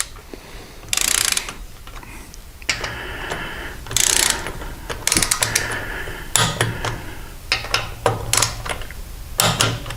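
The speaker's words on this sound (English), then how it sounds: "Torque our banjo bolts to 15 foot-pounds." A torque wrench tightens banjo bolts on an aftermarket air cleaner, giving bursts of rapid ratcheting clicks interspersed with short metallic clacks and handling noise, loud and close with no talking.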